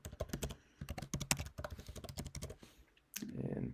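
A password is typed on a computer keyboard. Quick, fairly faint key clicks come in short irregular runs, and a brief rustle follows at the end.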